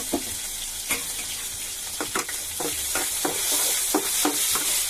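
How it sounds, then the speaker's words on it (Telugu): Chopped onion and green chilli frying in hot oil, a constant close sizzle broken by repeated scraping stirs of a spatula against the pan, growing slightly louder, no talk. "ఫస్ట్ మనం ఉల్లిపాయ ఇంకా పచ్చిమిరపాయ ఈ రెండు వేసాను"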